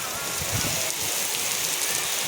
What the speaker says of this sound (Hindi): कितनी तेज़ बारिश हो गई अब